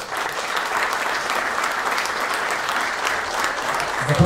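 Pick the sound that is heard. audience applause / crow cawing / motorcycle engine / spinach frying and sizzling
audience applause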